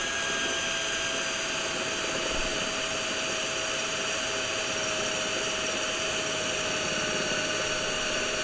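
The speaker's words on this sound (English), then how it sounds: "If you got a good drill bit, it'll cut right through it." A steady, high-pitched whine of a drill bit cutting through metal, running continuously with a constant tone and no pauses, close to the listener.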